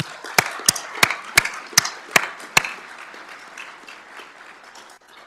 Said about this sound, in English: Let's give a round of applause for the families and friends.